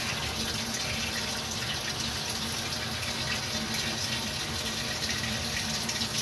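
A Whirlpool WTW4850HW1 top-load washing machine on a delicate cycle fills with water, a steady, loud, continuous rush of running water that holds even throughout without pauses or talk.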